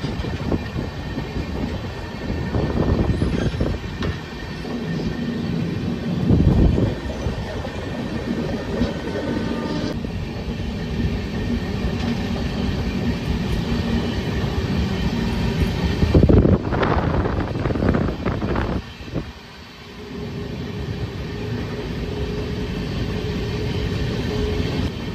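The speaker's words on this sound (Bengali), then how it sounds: "ট্রেন কতটা টান নিচ্ছে শুধু দেখো" An Indian express train, the Howrah–SMVT Bengaluru superfast, runs through hilly countryside, heard from inside a coach as a continuous rumbling roll with rhythmic wheel clatter and bursts of wind noise, no one speaking.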